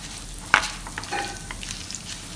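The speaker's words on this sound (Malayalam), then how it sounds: "ഒരു ടീസ്പൂൺ പരിപ്പ് ആഡ് ചെയ്ത് കൊടുക്കുക ഇനി ഇതൊരു പത്ത് മിനിറ്റ് ഒന്ന് മിക്സ് ചെയ്ത്" A teaspoon of lentils roasts in a hot pan while being stirred. A soft frying hiss runs throughout, with one sharp scrape or clink near the start.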